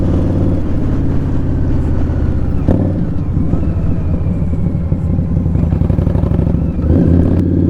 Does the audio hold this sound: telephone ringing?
no